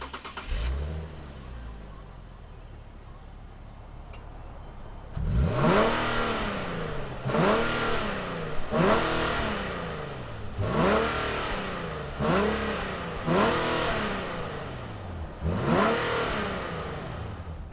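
A 2020 Nissan 370Z V6 fires up with a starter crank, settles to idle, then gets a series of about six sharp throttle blips, each rev rising and falling back quickly in a regular rhythm, close and fairly loud.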